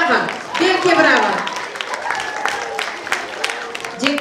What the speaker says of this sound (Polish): Brawa, wielkie brawa.